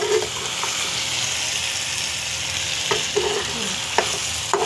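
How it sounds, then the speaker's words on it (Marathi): Onion, tomato, cashews and almonds fry in a pan with a constant close sizzle. A few soft knocks of stirring are heard now and then. "आता मी कांदा टॅमॅटो काजू बदाम हे फ्राय करत आहे"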